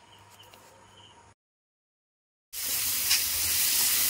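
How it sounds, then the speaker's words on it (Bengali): Fish frying in hot oil hisses and sizzles loudly and steadily after a short stretch of total silence, close up and with no talking. "আগে মাছ ভাজিটা করে নেব"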